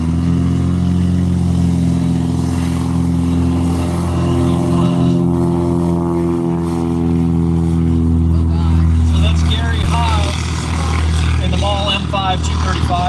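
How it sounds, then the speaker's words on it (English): A Maule M5 235 light aircraft takes off, its engine a loud, steady drone that rises in pitch as it climbs away, with a person talking over it throughout. "M5 235 that just took off"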